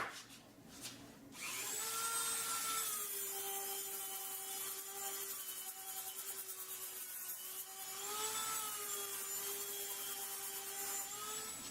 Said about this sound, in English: this is supposed to be good for sanding, you know, odd shapes like this